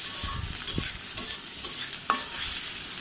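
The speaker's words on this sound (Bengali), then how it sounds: "পেঁয়াজ কুচিটা এখন ভালো করে ভেজে নেব, লাল লাল করে ভাজবো।" Chopped onions fry in a pan with a steady bright sizzle, broken by a few scraping stirs of a spatula, close and clear with no talking.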